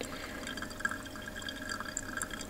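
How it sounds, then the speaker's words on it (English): Hot water pours over coffee grounds in a steady, soft trickle with light dripping, continuous and close but quiet, with no talking. "Although the pouring is already happening"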